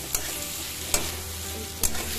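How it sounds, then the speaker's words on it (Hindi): Pointed gourd (parwal) frying in a spiced masala, a continuous close sizzle broken by three sharp stirring scrapes at roughly even intervals. "ये हमारा ये परवल फ्राई हो गया है, मिक्स हो गया मसाले के अंदर पूरा"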